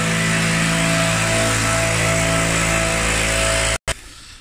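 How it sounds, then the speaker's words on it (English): Ozzy's leaf blower drones loudly and steadily behind the south stand, a constant engine roar with a harsh whine that cuts out abruptly near the end. "coming round with leaf blower"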